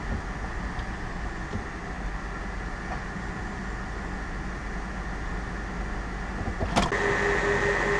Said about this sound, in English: so we got the car running